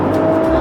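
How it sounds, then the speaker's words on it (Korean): A Mercedes-Benz GLE53 AMG 4MATIC SUV with a tuned exhaust gives a brief, steady, loud engine and exhaust note, close by and heard alone. "배기음 살짝 들려볼게요."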